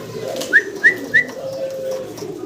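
Yellow helmet pigeons at a pigeon market giving three short rising whistled coos in quick succession, close and fairly clear, followed by a softer drawn-out note over low background murmur.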